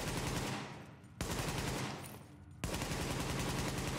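A Caduceus assault rifle fires at a shooting range in The Division, with rapid automatic bursts in three sustained strings, each ending sharply before the next begins, loud and close with no talk.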